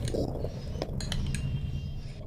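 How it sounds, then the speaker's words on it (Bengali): Spoon clinking and scraping in a bowl while soy sauce, tomato sauce and vinegar are mixed together for chilli paneer, a few quiet close taps over a low background hum, no voices. "ব্যাস এই মিশ্রণটা ভালোভাবে কিন্তু এইভাবে মিশিয়ে নিতে হবে।"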